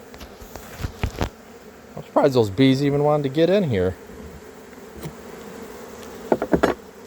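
Bees buzz loudly and close for a couple of seconds while a swarm is hived into a box fouled by ants, with someone speaking briefly and softer buzzing and knocks on either side.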